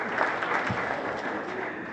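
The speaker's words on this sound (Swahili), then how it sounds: "Makofi, makofi." An audience applauding at a five-star hotel launch in Arusha attended by the president, a moderately loud, even patter of many hands filling the room, with a faint murmur of voices underneath.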